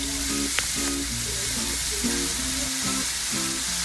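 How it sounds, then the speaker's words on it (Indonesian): Burdock root (gobo) stir-frying in oil for kinpira, a close, steady crackling sizzle with light clicks of stirring running continuously. "Jadi kita tumis gobonya dulu ya guys."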